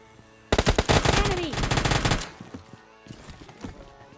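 Rapid automatic gunfire from the mobile game PUBG Lite comes in a loud burst of about a second and a half, followed by several scattered, quieter single shots.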